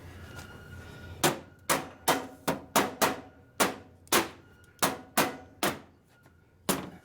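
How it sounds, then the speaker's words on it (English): A rubber hammer strikes a Weil-McLain boiler in about a dozen sharp, loud taps. The blows come in an uneven rhythm, each followed by a short ringing decay, with no talking. "rubber hammer."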